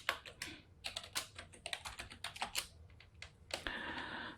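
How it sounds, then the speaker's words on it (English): A password tapped out on a computer keyboard, a quick irregular run of close, fairly quiet key clicks with a short burst of faster typing near the end. "Type in the password."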